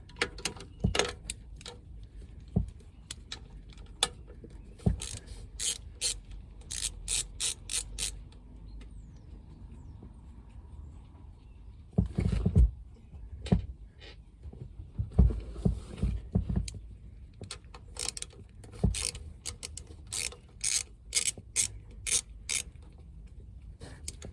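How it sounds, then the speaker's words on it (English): Hand ratchet loosening bolts on a Volvo Penta TAMD41-P marine diesel engine during sea water cooling work, heard as repeated quick bursts of ratcheting clicks, some close and sharp, with a few heavier clunks between the runs. "looks like I've got to get the ratchet on it again"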